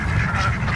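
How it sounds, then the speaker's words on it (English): Geese and ducks in a park give a short, close honking quack, a single brief call with faint background noise. "These are geese."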